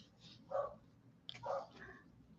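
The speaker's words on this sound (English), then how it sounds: "Oh, who's barking, Lulu?" A small dog named Lulu gives a few quiet, distant barks, two short yaps about a second apart with faint whimpering between, heard in a calm indoor room.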